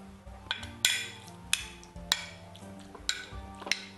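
A spoon stirs and mixes a marinade in a dish, a series of close clinking scrapes against the dish in an uneven rhythm, with no voices.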